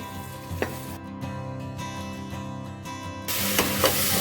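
Small tomatoes dropped into sizzling masala in a pan, a steady frying hiss with a couple of sharp knocks and a louder burst of sizzle near the end, no voices.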